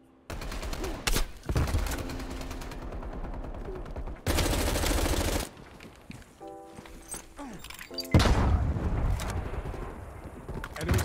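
Death Machine minigun fire in Call of Duty Cold War, with bursts of rapid, loud gunfire broken by gaps, game footsteps and interface tones, heard up close.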